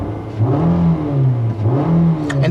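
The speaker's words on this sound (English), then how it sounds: "push this button here to fire up the engine" A 2016 Nissan Altima's 2.5-liter QR25DE four-cylinder engine starts, with a loud close whirring crank followed by two rising revs and a settling idle.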